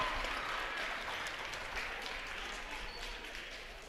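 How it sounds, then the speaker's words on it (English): A basketball crowd in a school gym applauds after a free throw, steady clapping and crowd noise heard at a moderate distance and somewhat faint, holding evenly throughout. "And you hear the crowd here at Conrad."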